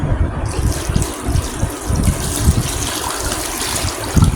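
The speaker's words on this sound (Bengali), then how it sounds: "এখন আমি এখানে পানি অ্যাড করব" Water poured into a pot of seasoned chickpeas being prepared for boiling, a steady close gushing splash that keeps going with small bursts and bubbling, no voices.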